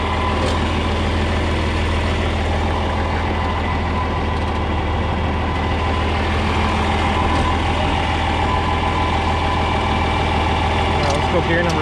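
A John Deere 4010 tractor engine runs steadily in fourth gear, a loud, continuous low diesel drone with a rough, pulsing texture throughout, close to the listener with no breaks.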